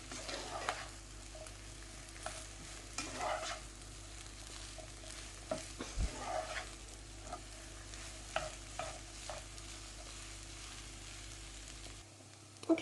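A spoon scrapes and stirs a spiced potato samosa filling in a pan, with a steady soft sizzle of frying under repeated scraping strokes throughout.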